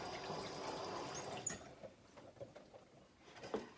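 A food package rinsed under a tap, with a steady gush of running water that stops midway, followed by a few quiet drips, knocks and handling clatters nearby.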